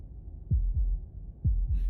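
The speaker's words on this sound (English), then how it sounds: "That was the sound of a heartbeat," A heartbeat sound effect plays in an audio drama, two low double thumps in a slow, steady rhythm, close and deep, with no voices.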